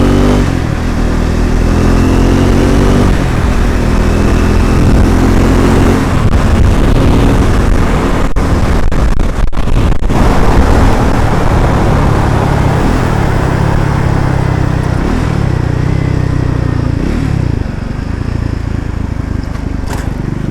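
A Triumph Scrambler 400 X motorcycle on the move, with a steady, loud engine drone that rises and falls through gear changes, mixed with constant wind buffeting over the whole ride.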